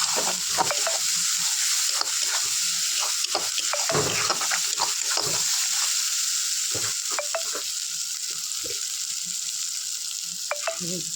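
Spice paste for chicken kosha fries in a pan, with a steady sizzling hiss and repeated scraping stirs throughout, fairly close, with no one speaking.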